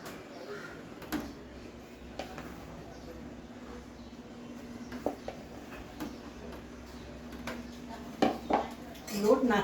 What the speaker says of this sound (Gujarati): લોટ નાખ્યા બાદ તરત જ તમારે આ રીતે એને હલાવવાનું છે।